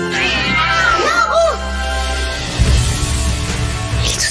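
A cat meows several times in a film trailer, high wavering cries close to the ear over a music and voice bed, followed by a lower, rougher stretch.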